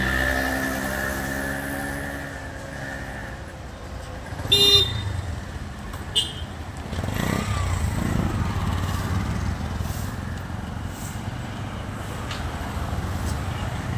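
A busy road during a school-hour rush carries a continuous rumble of passing cars and motorbikes, with a couple of short, sharp horn toots partway through and a swell of engine noise after.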